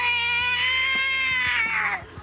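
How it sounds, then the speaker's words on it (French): A cat meows in a long, drawn-out wail lasting over two seconds, loud and close, its pitch holding steady before dropping away at the end, with faint low thumps underneath. "Moi, je vais pour le miaulement de chat"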